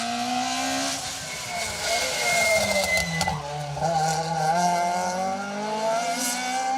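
A rally car on the asphalt Stage 9 of Rally Ceredigion 2023 passes with a loud, steady engine roar whose pitch rises and falls and shifts through gears, a commentator talking over it throughout.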